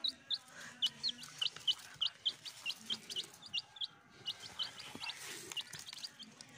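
Chicks at a market peep in quick repeated high chirps, a steady rapid series of sharp calls close by over a quiet background.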